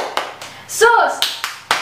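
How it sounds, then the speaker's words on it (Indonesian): Children clap in a short rhythmic pattern during a Christian Sunday school service: a few sharp, separate hand claps spaced around a brief chanted voice, close and fairly loud. "Tepuk Yesus"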